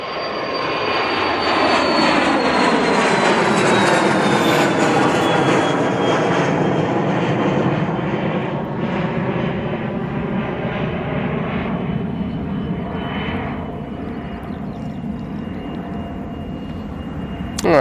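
A Turkish Airlines airliner in a biofuel special livery passes at Manchester Airport, its jet roar swelling loud with a high whine that slides lower and then slowly fades into the distance.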